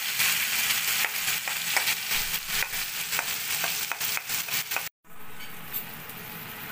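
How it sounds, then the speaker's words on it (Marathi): Ground green chilli chutney fries in oil, a continuous close sizzle broken by scraping stirs, cutting out briefly before the sizzling resumes more quietly. "आता आपले व्यवस्थित मिरचीची चटणी पण तेलामध्ये परतून झाली आहे"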